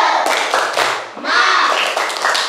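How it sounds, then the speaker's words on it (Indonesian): School children at an elementary school perform a rhythmic group clap, a cheer-style pattern of clustered hand claps in a classroom with voices chanting along. "Tepuk semangat."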